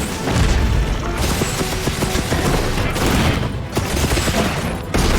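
A gunlance in a monster-hunting action game fires a double Wormstake attack, a dense barrage of loud crashing, shell-like blasts and impacts layered over steady battle noise, with sharp bursts near the start and end.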